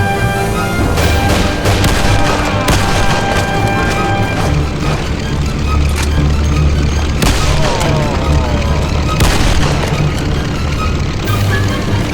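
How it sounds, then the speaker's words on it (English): Gunfire in the video game Mafia 1 rattles on almost without pause, loud and dense, with heavy booming shots and sharp cracks layered over a constant roar of action. "Thompson, you and Sam shoot them."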